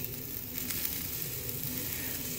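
Eggplant cooks on a barbecue grill with a faint, steady crackling sizzle against a soft background hiss, and no one speaks.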